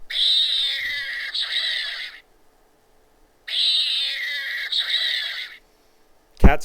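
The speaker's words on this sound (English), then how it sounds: "Cats fighting." Fighting cats sound bite with two long, harsh, wavering yowls of about two seconds each, separated by a pause and followed by a sharp thump at the end, with no talking.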